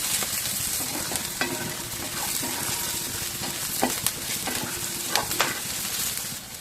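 Broad beans and onions frying in a pan make a steady sizzle. Irregular scraping and clinking stirs sound close by throughout.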